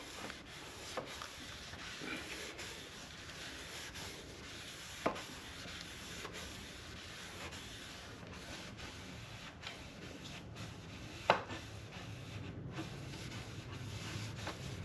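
An electric sander works over a painted wooden board with a steady, quiet rubbing drone, broken by a couple of brief sharp knocks.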